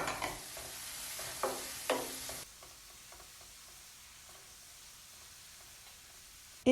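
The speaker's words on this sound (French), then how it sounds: "Puis ajoutez 100 g d'épinards hachés" Chopped spinach cooks in butter with garlic in a pan. A loud hiss and a few stirring scrapes come first, then the sizzle drops to a soft, steady crackle.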